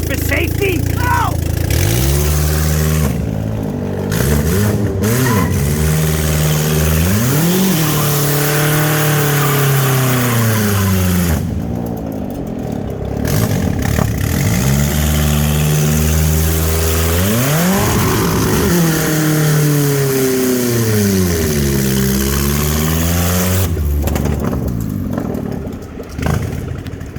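A Kia Spectra with an open exhaust revs hard and repeatedly in neutral, rising and falling in loud, raspy sweeps with brief lulls between bursts.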